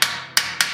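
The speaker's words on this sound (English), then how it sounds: "all I've done is close up this rivet here, and I've just peened it over" Three sharp metallic hammer strikes peen over an aluminum rivet on a handmade mask, close and distinct, the first two spaced wider apart than the last pair.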